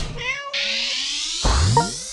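A cartoonish cat meows twice in a Sanrio pet egg video game, clear and close with synthetic game tones around it and no talking.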